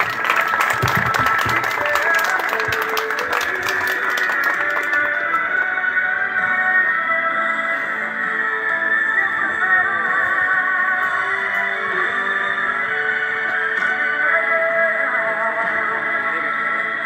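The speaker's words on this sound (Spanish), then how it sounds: "vamos a pedir fuerte los aplausos" Guests at a quinceañera applauding during the father-daughter dance, a burst of clapping over the start of waltz music, then the music carries on alone with the clapping fading out.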